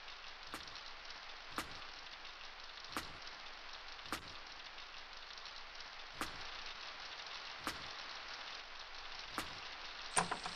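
Steady rain hiss falls throughout on a surface, with faint regular ticks recurring roughly every one and a half seconds, used as a horror audiobook sound effect; no voices.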